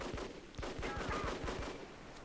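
Gunfire in the CrimeCraft: Bleedout shooter, a rapid string of about eight evenly spaced shots, fairly close, over steady game background noise.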